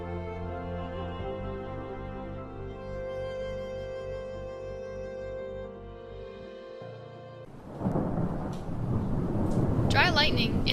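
Thunder from a thunderstorm rumbles in suddenly and loud after several seconds of sustained music, a crackling roll that swells and continues to the end.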